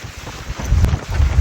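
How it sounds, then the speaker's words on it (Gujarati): Strong wind gusts across a rooftop before rain, buffeting the microphone with deep rumbling roars that swell and build over a brief span, loud and close. "ફૂલ પવન આવે છે"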